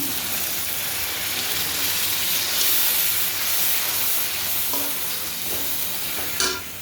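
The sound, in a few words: hot water added to frying spice paste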